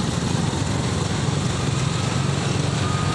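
Small motorcycle engine running low on fuel and misfiring, a close, steady buzzing drone with a rough, uneven low-end sputter throughout, no voices.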